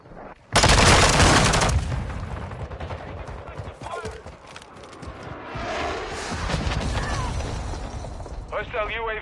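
Gunfire in Call of Duty MW2 team deathmatch on Shoot House, with an Oni Pyroclast: a loud opening burst of rapid shots, then sustained crackling fire and clatter, with game voices over it.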